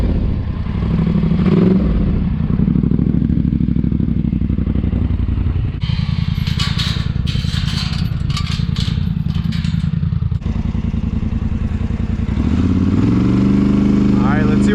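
A straight-piped four-wheeler ATV on sand dunes roars loudly at full throttle, a harsh raspy drone with clattering bumps midway and a rising rev toward the end.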